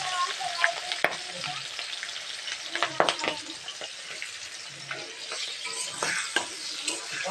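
Meat sizzles in hot oil with bay leaf, chopped green chilli and chopped onion, a steady crackling fry broken by scrapes and clinks of stirring, close and fairly quiet.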